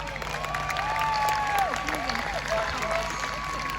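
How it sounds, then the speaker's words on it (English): Spectators at a jousting tournament at Hampton Court Palace cheer and clap as armoured knights pass by, a steady crowd roar with scattered whoops and whistles rising over it. "Let's have a cheer for the knights as they pass by."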